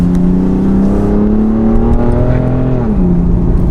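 A BMW M3 engine on a newly fitted exhaust system revs steadily, with a loud, close, sustained drone whose pitch holds and then drops near the end, with no talking.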